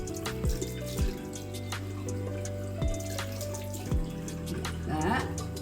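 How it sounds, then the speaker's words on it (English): Running tap water at a bathroom sink as eyeliner is rinsed off, a steady moderate splashing flow with a few louder splashes and drips, with no talking heard. "Now I'm gonna remove my eyeliner just with a little bit of running water."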